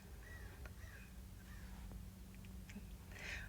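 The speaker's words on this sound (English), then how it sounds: "there was a crow that just flew by" A crow flying past outdoors gives several hoarse caws, faint and somewhat distant, spread over a few seconds against a low steady background hum.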